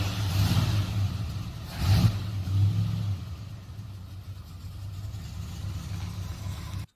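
A car engine revs and rumbles at mid volume, with a couple of surges early on before settling into a steadier drone.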